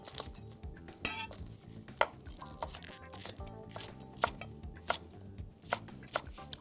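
A knife chops leeks, carrots and green onion on a board in quick bursts of sharp, close knocks, with pauses between runs and faint kitchen clatter beneath.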